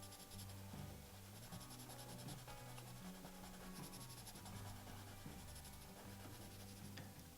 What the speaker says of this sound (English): it doesn't really matter necessarily what direction your pencil strokes are.